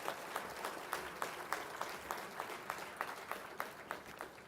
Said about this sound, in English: Let's give a big round of applause to all of our MS graduates.